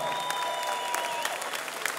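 Audience applause for a boxer after a ten-round bout at a Czech boxing event, a steady wash of clapping from a crowd filling the whole moment with no speech over it.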